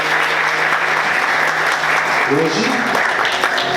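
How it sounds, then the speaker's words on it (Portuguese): A church congregation bursts into loud, sustained applause during a sermon, a dense wash of clapping that runs throughout, with a voice speaking briefly over it. "Você pode aplaudir Jesus bem forte."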